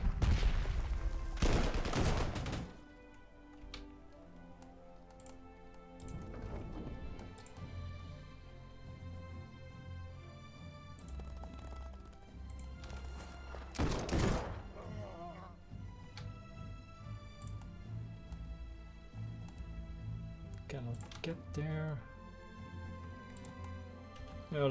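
Artillery and gunfire from the World War II strategy game Panzer Corps 2, set in the Spanish Civil War battle for Madrid, with two loud bursts of blasts over a steady game soundtrack and scattered smaller impacts.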